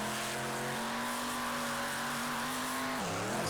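Monster truck engine droning steadily as the truck crawls over mud hills at a Monster Rage event in Miami, Oklahoma, its pitch holding level before dipping near the end, loud and continuous with no talk.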